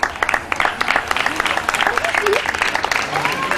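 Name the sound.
spectators applauding at triathlon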